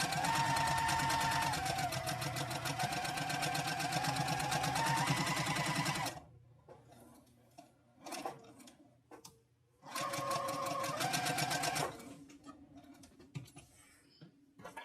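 A sewing machine stitches wavy quilting lines across a zipper case, running in fast rhythmic bursts of rapid needle clatter close by, pausing with quiet handling noises between runs before starting up again.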